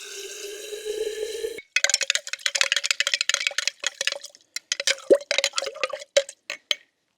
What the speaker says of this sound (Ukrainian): Виливаємо в лейку і все це перемішуємо